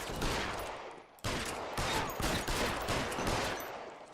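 Gunfire in L.A. Noire, dense rapid shots in a sustained loud volley with a brief break, alone without talk.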